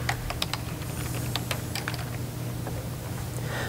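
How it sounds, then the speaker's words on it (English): Computer keyboard typing for a basic search, a run of quick, irregular light clicks over a steady low room hum, no talk. "So I'm just going to type in a basic search."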